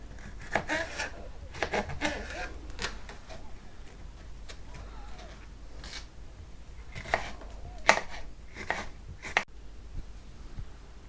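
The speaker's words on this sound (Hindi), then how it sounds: "शिमला मिर्च काट लेते हैं।" A knife chopping capsicum on a cutting board for a salad, irregular close taps and cuts scattered through the stretch, moderate in level with some faint background noise and no talking.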